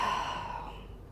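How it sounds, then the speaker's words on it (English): One long, audible exhale during a yoga flow, a breathy rush that fades out over about a second, close and alone. "deep inhale in, and then big breath out."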